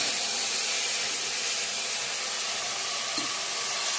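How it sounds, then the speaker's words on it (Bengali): Okra frying in a pan gives a steady, even hiss and sizzle that holds close and constant throughout, with no talking over it. "ভেন্ডি ভাজাটা বসে দিয়ে দিয়েছি"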